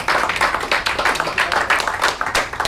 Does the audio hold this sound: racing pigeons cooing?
no